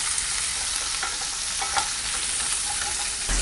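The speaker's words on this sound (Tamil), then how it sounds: "இதை நல்லா வதக்கிக்கலாம்." Small onions sauté in a pan for mint chutney, giving a close, steady sizzle throughout with a few soft stirring scrapes and no voices.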